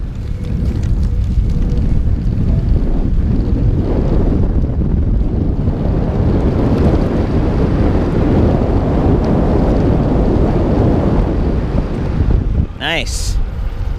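Heavy buffeting wind roar while riding an electric bike fitted with a Superpedestrian Copenhagen Wheel in turbo mode, loud and continuous, with a rider's voice briefly mixed in near the end.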